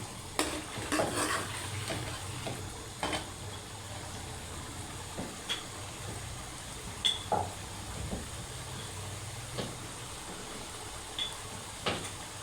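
Chicken karahi fries in oil in a karahi wok with a low, steady sizzle, while a metal spoon stirs and clinks against the pan at irregular intervals.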